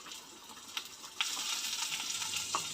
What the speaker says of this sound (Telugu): పచ్చిమిర్చిని ఇలా బ్రౌన్ కలర్ వచ్చేంత వరకు వేపుకోవాలి, ఫ్రై చేసుకోవాలి